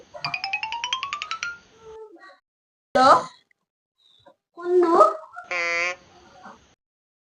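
A short rising electronic ringtone melody plays near the start, followed by speech and a few other brief electronic tones.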